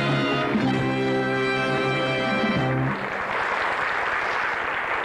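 A studio audience breaks into loud, sustained applause on a live television show, following a brief burst of bright band music that cuts off abruptly.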